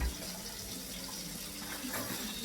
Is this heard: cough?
no